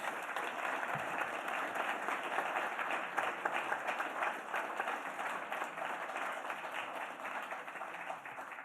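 Steady, dense audience applause after a poem at a poetry reading in Los Angeles, many hands clapping continuously at full strength for the whole stretch, with no talk over it.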